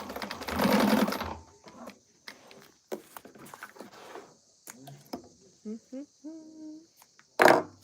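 Someone sews an Irene quilt block on a sewing machine, and short bursts of stitching follow a longer run at the start. Quiet talk fills the pauses between runs.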